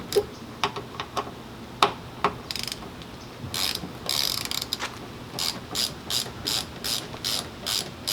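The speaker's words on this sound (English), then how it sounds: "First step of this project is removing these two bolts. These are the T40s." A ratchet wrench clicks in quick bursts while loosening T40 bolts during a rear light bracket install, loud close ratcheting runs separated by short pauses.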